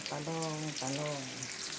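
Eggplant fries in a pan, giving a constant close sizzle and hiss, overlaid by two brief tonal, voice-like sounds.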